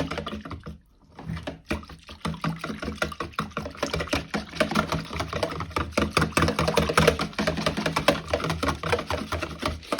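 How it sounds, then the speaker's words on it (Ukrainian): Sourdough starter whisked and stirred in a bowl, a rapid run of close, wet clicking and slapping strokes that keeps going for several seconds after a brief pause near the start. "І так ретельно його збиваю. Так, добре розмішую."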